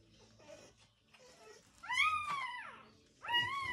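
Newborn Rottweiler puppies let out several thin, high-pitched whimpering cries, close and fairly soft, with short quiet gaps between them.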